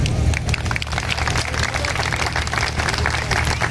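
Crowd applause at a Babasaheb Ambedkar Jayanti gathering, where an additional district magistrate is speaking: dense, continuous clapping from many hands, loud and close, sustained throughout with little speech.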